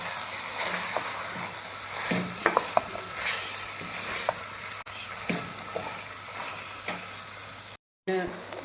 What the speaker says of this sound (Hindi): अब मैं इसके अंदर ये गोश्त डाल दूँगा और अब मैं गोश्त को भी भून लूँगा ताकि इसका कच्चापन ख़त्म हो जाए